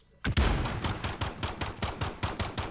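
Rapid bursts of gunfire from a 3v3 Gunfight video game crackle in a fast irregular volley, loud and close, lasting a few seconds with no talking.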